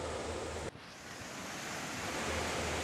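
Sea waves break and wash continuously onto a beach, a loud broadband roar of surf with a brief dip partway through, then steady crashing with no voices.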